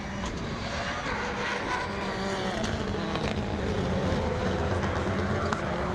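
Older-style Ford Fiesta rallycross car on its last lap at Pembrey, with engine roar and revving from other racing cars mixed together over six seconds amid noise from a distant crowd.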